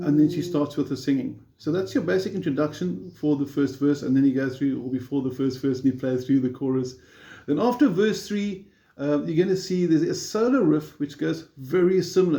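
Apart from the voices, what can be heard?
No distinct noise like a dog, phone or traffic.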